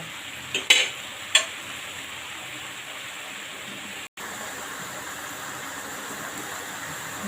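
Red amaranth greens simmer and fry in a pan with slit green chillies and prawns, a steady close hiss and sizzle running throughout, opened by a couple of brief clinks of utensils.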